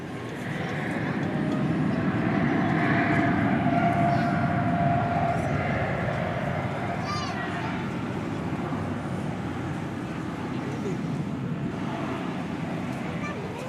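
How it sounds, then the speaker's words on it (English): A Boeing 787 Dreamliner airliner takes off at night from an airport, its steady, broad jet roar loud and sustained throughout, with a commentator's voice talking over it. "here goes that Dreamliner"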